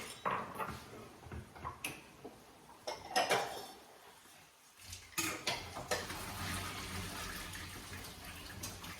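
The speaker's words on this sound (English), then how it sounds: "I'll drain the pasta quick." Boiled pasta is drained, with pot clanks, metallic clatter and splashing, pouring water in a kitchen, loud bursts separated by a brief quieter pause.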